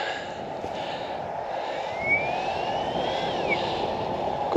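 An Align TB60 electric RC helicopter spools up, its motor whine climbing steadily in pitch before levelling off, heard over a constant outdoor background hiss.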